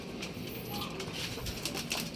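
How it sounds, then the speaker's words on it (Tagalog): Pigeons at a racing-pigeon training loft in Tarlac cooing continuously at close range amid rustling and other bird noise, no voices audible. "Ilan na lang ang kalapati natin, o."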